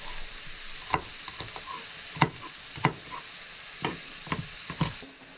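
Diced onion and peppers fry in a pan with a steady broad sizzle, broken by about seven sharp scrapes and knocks of a utensil stirring against the pan, with no talk.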